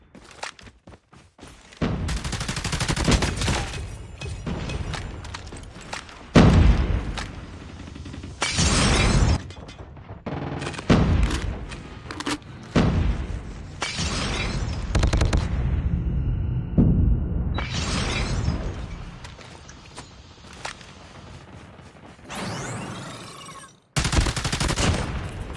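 Call of Duty: Mobile gunfire: loud, rapid bursts of automatic shots and cracking impacts come in repeated volleys across the clip, with brief gaps between the runs of fire.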